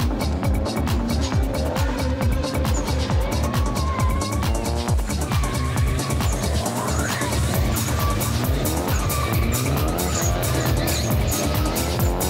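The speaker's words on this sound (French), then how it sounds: "Le rugissement de puissants moteurs, la fumée des pneus" Drift cars at an Athens tuning show roar and skid continuously, tires squealing amid loud, dense engine noise from a crowded event, with a steady, unbroken wall of sound throughout.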